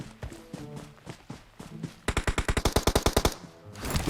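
Rapid automatic gunfire from an AKM or UMP in PUBG Mobile, a quick burst of about a dozen sharp shots, preceded by softer scattered game sounds and footsteps.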